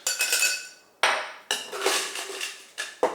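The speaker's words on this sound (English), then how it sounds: "Let's take a tall glass and fill it with ice." Ice cubes clatter into a tall cocktail glass in several bright, ringing bursts, close and fairly loud, with brief pauses between scoops and no talking.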